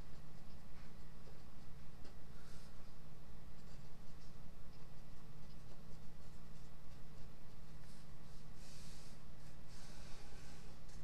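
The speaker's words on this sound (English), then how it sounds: "I'm going to write that here in this space" Marker or stylus writing on a board or tablet during a geometry lecture, a soft scratchy scribbling over a constant hum and hiss, with no speech.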